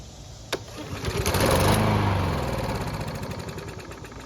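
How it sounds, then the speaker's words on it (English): A small lawn mower engine sputters, catches with a sharp pop, then roars up and settles into a steady, rough running drone nearby. "the engine started and ran"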